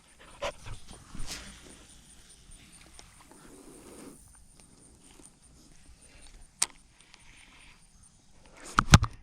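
A dog moves around a lakeside spot during a morning fishing trip, heard as faint panting, shuffling steps and scattered light rustles, with a couple of sharp close clicks near the end.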